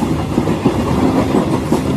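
A moving train's steady rumble with rhythmic clickety-clack of wheels on rail joints, close and continuous, used as a sound effect in a Bengali audio story.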